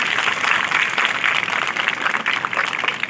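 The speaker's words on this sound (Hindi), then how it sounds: "तो इन बच्चों के लिए जोरदार तालियां" An audience claps for the children at a school Hindi Day function, a dense and sustained burst of many hands, even and fairly loud from start to finish.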